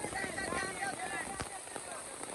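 Rain falling steadily during the first rain of the season in a Marathi village, a constant hiss with scattered drop ticks, fairly close, while voices chatter over it.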